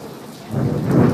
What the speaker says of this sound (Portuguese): Olha, relâmpago.